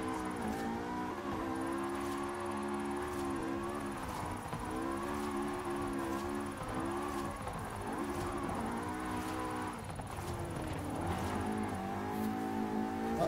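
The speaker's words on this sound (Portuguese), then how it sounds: "Ferrari F355. De drift." Ferrari F355 drifting in Forza Horizon 5, its engine holding a sustained, wavering high-revving tone with pitch swells and dips throughout, loud and steady with no talk over it.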